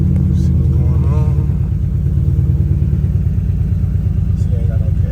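A cammed Ford Crown Victoria V8 idles loud and close, a heavy lumpy rumble with a choppy pulsing rhythm that holds steady throughout, with brief faint sounds and a voice in the background.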